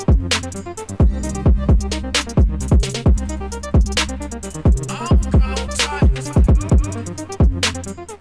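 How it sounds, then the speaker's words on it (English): Instrumental closing section of a dance track cued up by a DJ, with a steady pounding kick drum on every beat, layered synth chords and bright hi-hats playing continuously at full level with no voices. "I know it's at the very, very end that has an instrumental portion that I can use as kind of like a filler or use as an intro"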